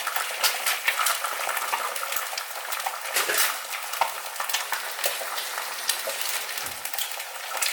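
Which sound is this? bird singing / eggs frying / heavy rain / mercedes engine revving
eggs frying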